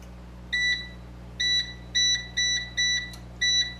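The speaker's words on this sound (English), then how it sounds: "So I'll set my timer" A kitchen timer being set for 20 minutes gives six short, clear electronic beeps in an irregular rhythm, close by and alone over a faint background hum.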